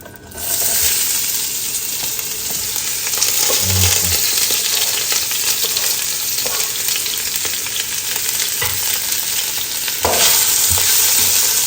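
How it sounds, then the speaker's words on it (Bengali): Onions frying with panch phoron spices in a home kitchen pan, a loud, continuous hissing sizzle close by, with light stirring and a brief clatter near the end. "এখন পেঁয়াজগুলো দিবে আম্মা"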